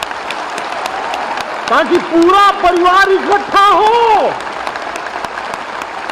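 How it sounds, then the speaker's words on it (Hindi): A crowd at a public gathering applauding steadily, the broad clapping running throughout while someone speaks loudly over it in the middle before the applause carries on alone. "जोर से तालियां बजाइए"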